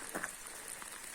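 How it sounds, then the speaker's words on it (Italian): Heavy rain falling during a mountain hike in the Lagorai range near Pieve Tesino, a steady, faint hiss of drops with occasional louder patters and no voices. "Però piove tanto"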